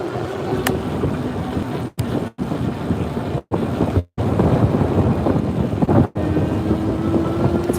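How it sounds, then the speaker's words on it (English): Steady, heavy wind buffeting a microphone outdoors on a city street, a constant low rumble broken by a few brief dropouts. "It's very windy today,"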